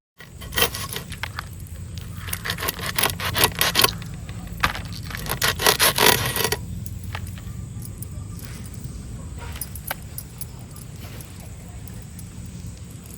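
A knife cutting a whole fish into two pieces in a village kitchen, with gritty scraping and crunching strokes through flesh and bone, loudest early on and then settling into quieter rasps over steady background noise.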